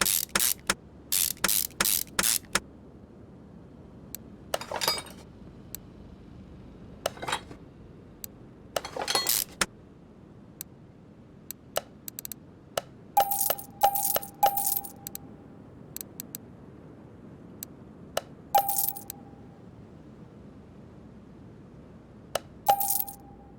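Metal bolts clinking and rattling in Car Mechanic Simulator 2021 during a Jaguar XJ220 junkyard rebuild, in scattered bursts of sharp jingles and taps with short ringing tones between quiet gaps.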